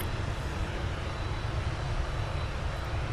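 An Air Canada airliner passes by at Toronto Pearson airport, a steady, fairly distant engine roar with a low rumble that holds evenly for three seconds, no voices.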